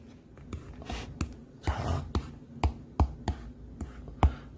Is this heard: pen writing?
yes